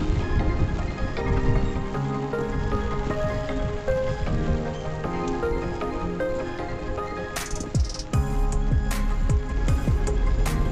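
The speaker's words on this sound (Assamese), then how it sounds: "অলপকৈ বৰষুণৰ শব্দ আপোনালোকে শুনিছে চাগৈ।" Light rain patters steadily on leaves and ground in a forest near Prut waterfall, a dense, continuous close hiss with brief sharper spatters near the end.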